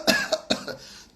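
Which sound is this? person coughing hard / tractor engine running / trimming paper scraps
person coughing hard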